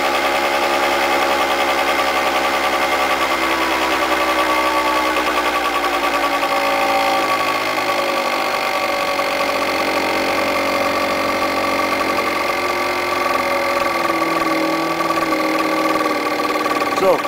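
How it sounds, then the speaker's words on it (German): Motor scooter engine running with an oxyhydrogen (Knallgas) hydrogen additive, dropping back from higher revs and settling toward idle; a steady mechanical drone with harmonic lines sliding downward, loud and continuous, with no talk over it. "der Motor, der pendelt sich wieder ein, geht auf Leerlaufstellung zurück."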